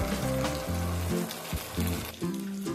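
Spice paste and slit green chilies frying in a pan for a pomfret fish curry, crackling and sizzling close up over a background of soft, repeating music tones.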